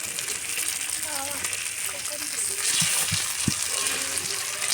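Fish frying in a pan crackles with a moderate, steady sizzle, with a few soft thumps and brief voices in the background.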